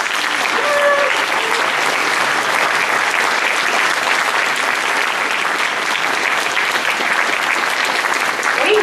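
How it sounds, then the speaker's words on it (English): Sustained, loud applause from a crowd at a Darwin Day gala in Carmichael, California, honouring the event's helpers, a dense unbroken roar of clapping hands with a brief voice near the start. "let everybody else give you applause"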